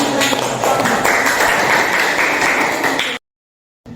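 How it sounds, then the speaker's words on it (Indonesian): Students clap together in a classroom after a presentation, a dense burst of hand claps lasting about three seconds before cutting off abruptly, followed by a brief return of sound. "Tepuk tangan."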